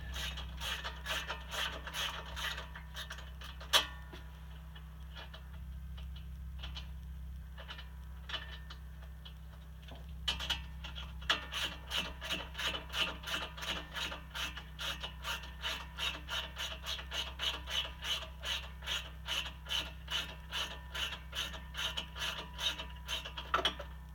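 A ratchet wrench works a spark plug out of a Honda 630 engine, with sparse clicks at first, then a fast, steady run of close ratchet clicks over a constant low hum.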